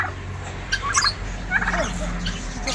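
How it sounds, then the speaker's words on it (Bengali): Birds in a children's park enclosure at Salar make a few nearby gobbling, turkey-like calls in two short bursts, along with chirps over steady background hum. "দেখুন এখানে বিভিন্ন রকম পাখি আছে"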